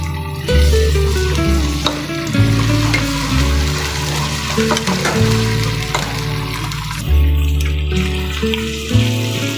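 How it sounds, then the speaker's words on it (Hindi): Ginger garlic paste frying with onions in a pan for matar pulao, a steady loud sizzle and crackle with occasional stirring scrapes, continuous and close, with no talking. "अभी हम इसमें डाल रहे हैं अदरक लहसुन का पेस्ट।"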